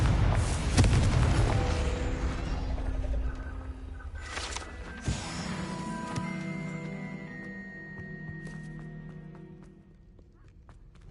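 A Confringo fire-blast spell going off in Hogwarts Legacy, a sharp booming burst early on and another blast near the middle, each trailing into a fading rumble and ringing tones.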